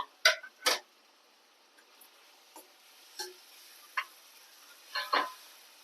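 A knife chops a tomato finely on a board, a scattered series of short, sharp taps, some doubled, fairly close but soft against a quiet kitchen background.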